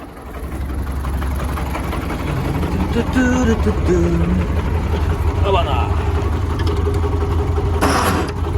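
A heavy MTZ-80 tractor engine runs steadily with a low, rumbling drone while ploughing, close by and continuous, with faint voices now and then underneath.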